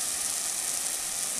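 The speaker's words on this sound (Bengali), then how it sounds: "এবার আমি জলটা দিয়ে দেবো।" Water poured into hot masala in a frying pan for a Bengali catla kalia fish curry, giving a steady, loud, broadband sizzle and hiss with no break and no voices.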